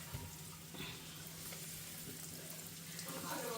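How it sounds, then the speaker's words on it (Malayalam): Cutlets frying in hot oil for an Easter breakfast give a steady, close sizzle with faint crackle, continuous and even throughout with no voice over it. "ഇനി നമുക്ക് ഫ്രൈ ചെയ്തെടുക്കാവേ."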